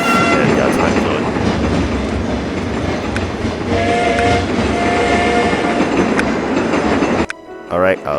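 A game train from TrainStation 2 rolls past in loud, dense clatter with rhythmic wheel clicks and a sustained horn tone, ending abruptly into quieter, tonal sound near the end.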